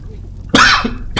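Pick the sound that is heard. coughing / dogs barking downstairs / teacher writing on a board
coughing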